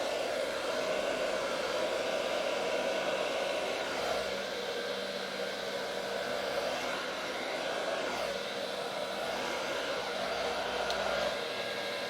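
A hair dryer on medium setting blows steadily on alcohol ink over a gold metallic canvas, giving a close, constant airy whoosh with no pauses.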